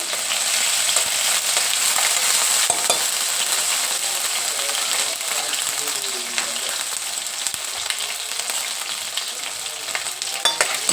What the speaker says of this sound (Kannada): ಶುಂಠಿ ಬೆಳ್ಳುಳ್ಳಿ ಪೇಸ್ಟ್ ಸ್ವಲ್ಪ ಫ್ರೈ ಆಗಲಿ